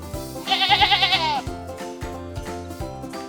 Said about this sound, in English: That's right, it's a sheep.